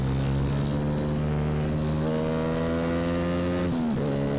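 A Sonic motorbike built for drag racing revs hard in GTA San Andreas, a loud, continuous, buzzing engine whine that climbs in pitch, then drops sharply near the end as if shifting gear.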